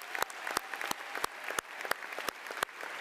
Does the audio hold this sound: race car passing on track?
no